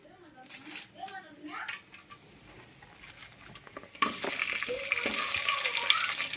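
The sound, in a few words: onion and pulao spices frying and stirred in oil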